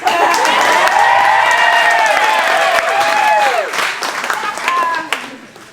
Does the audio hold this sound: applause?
yes